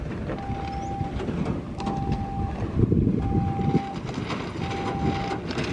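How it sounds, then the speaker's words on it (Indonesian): Train speeding past a level crossing, a loud continuous rolling rumble with a repeated horn or whistle tone sounding four times in a steady pattern, with no talking. "Ada kereta yang ngebut sepertinya."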